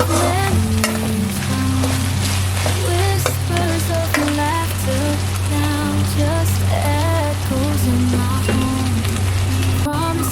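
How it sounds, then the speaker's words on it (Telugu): Sliced onions fry in a pan as the base for a spicy chicken liver dish, a steady continuous sizzle running under melodic background music throughout. "ఉల్లిపాయలు ఎంత దూరగా వేగితే చికెన్ రుచి అంత బాగుంటుంది."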